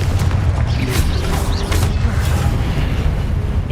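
Repeated Confringo fire-spell blasts in the Hogwarts Legacy video game, a continuous rumbling barrage of booming explosions with crackling bursts layered over a loud, dense background.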